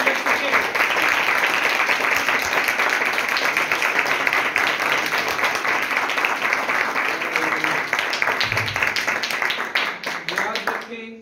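A church congregation at a Hindi-language worship service gives long, loud applause with voices mixed in. The clapping thins into a few scattered individual claps near the end.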